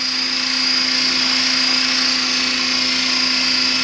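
An RC scale Bell Huey helicopter, a 500 size model, flying nearby with a loud, steady high-pitched whine from its motor and rotor, holding one constant tone without a break.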